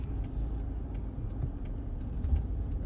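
A truck towing a trailer pulls up to a quarry, its engine and road rumble a steady, broad low roar heard from inside the cab, with no talking.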